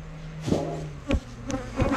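Honeybees buzz around an open hive during a honey harvest while being brushed off the frames, a steady insect hum with a few louder close passes and a brief word spoken over it.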